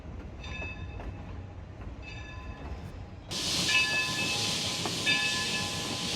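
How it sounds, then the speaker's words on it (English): Coal-powered steam locomotive at Cass, West Virginia, starting with a low rumble and faint tonal squeals, then a sudden loud burst of steam hiss that continues to the end, near and steady, with no voices. "Steam locomotive,"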